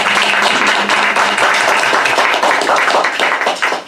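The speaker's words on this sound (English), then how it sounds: "Give him a round of applause" A round of applause rises for a young scout guest at a village board meeting, dense steady clapping from a small room that holds for several seconds before thinning out at the end.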